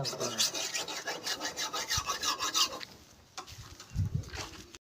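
A knife being sharpened with a file in a Punjab village, steady rhythmic rasping strokes close up for about three seconds, then a pause and a few softer scrapes.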